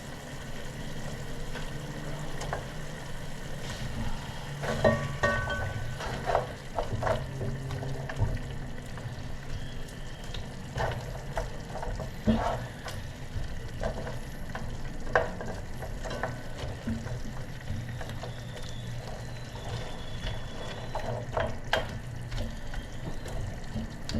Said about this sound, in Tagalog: Lagay na natin tong sibuyas.